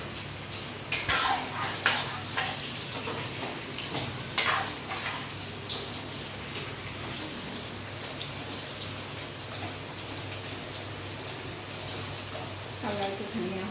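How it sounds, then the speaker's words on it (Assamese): Potatoes and green papaya fry in hot oil in a pan for a chicken curry. A steady sizzling hiss runs throughout, with a few clinks and scrapes of a utensil early on and someone talking over it. "আলু আৰু অমিতাখিনি অলপমান ভাজি লওঁ।"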